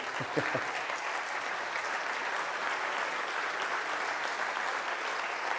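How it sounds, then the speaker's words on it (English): Sustained applause from a comedy audience, a steady dense wash of clapping at moderate distance with no voices over it, holding even throughout. "Thank you for clapping and not walking out halfway through"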